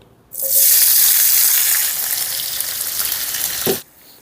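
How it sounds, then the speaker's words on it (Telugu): Sliced onions, cut long and thin, drop into hot oil for egg biryani and erupt into a loud, steady sizzle that fills the space for about three seconds, then stops abruptly with a small clunk. "ఆయిల్ వేడైందండి ఇలా పొడవుగా తరిగిన రెండు మీడియం సైజు ఉల్లిపాయ"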